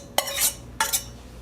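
Softened, sweated onions are scraped from a utensil into a mixing bowl in two quick, close metallic swipes, each a short clink followed by a soft brushing scrape.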